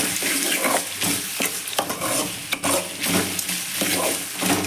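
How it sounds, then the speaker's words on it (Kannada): Turmeric stirred into a sizzling mixture frying in a pan for chithranna rice, with a steady hiss of frying overlaid by repeated scraping strokes of a spoon against the pan, close and continuous with no talking. "ಅರಿಶಿನ ಹಾಕಿ ಮಿಕ್ಸಪ್ ಕೊಡ್ತಾಯಿದ್ದೀನಿ."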